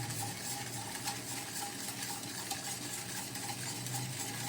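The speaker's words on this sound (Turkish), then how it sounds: "Bunu ocağa koymadan karıştırıyorum." Flour, sugar, starch and milk for a pumpkin pudding are stirred together in a pot before heating, a steady soft scraping and swishing that carries on throughout, close and fairly quiet, with no talking.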